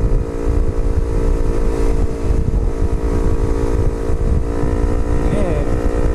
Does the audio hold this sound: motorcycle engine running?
yes